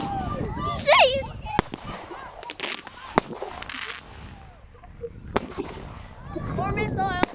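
Red Halloween fireworks in Shankill, Ireland, bursting in several sharp cracks and pops, with people talking and exclaiming loudly nearby.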